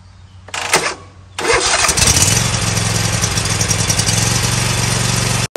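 A Kohler 7000 Series engine on a Toro Timecutter riding mower cranks briefly, then catches and roars into a steady, loud running rumble close by.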